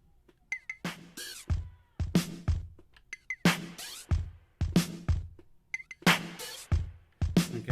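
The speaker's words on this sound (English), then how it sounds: "so I'm using its flanger effect here for the hi-hat and the click" Programmed electronic drum loop with a flanged hi-hat and click, plus shaker, opening hi-hat and clave, looping in a steady, busy pattern of sharp percussive hits with swirling sweeps on the hats.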